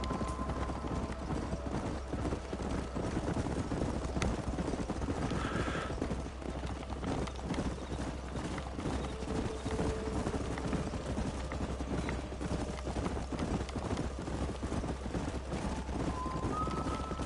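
Hooves of a galloping horse herd drum steadily in a canyon in Red Dead Redemption, a dense, continuous clatter with occasional whinnies and rushing wind over a low rumble.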